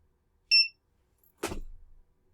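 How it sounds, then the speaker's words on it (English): A single short, high electronic beep from a countdown timer, then a brief dull thump of a jump landing a second later, both isolated against silence. "When they all turn green and I hear a beep"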